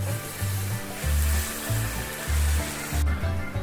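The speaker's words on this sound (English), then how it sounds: "Listen to this sizzle." Loud, steady sizzling as liquid hits a hot surface, with bursts of low rumbling underneath and a sharp hiss that drops off near the end.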